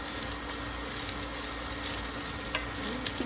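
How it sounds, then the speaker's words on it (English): Steady crackling sizzle of leeks sautéing in hot oil in a pan, continuous and close, with a few small pops and no voices. "Here's our sizzle, swishing around."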